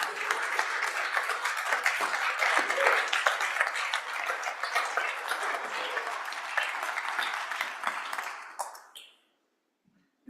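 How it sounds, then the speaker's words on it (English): A round of applause fills the state Senate chamber during a floor session, dense steady clapping from many people that holds strong for about nine seconds before cutting off abruptly into silence. "One more round of applause."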